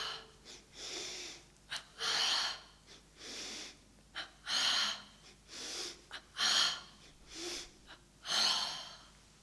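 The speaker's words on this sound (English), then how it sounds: "Let's start with the double breathing." A person performs a double breathing exercise during a morning stretching session, with a series of strong, forceful breaths, each a double inhale or exhale burst, repeated in a steady rhythm about once a second, close and alone.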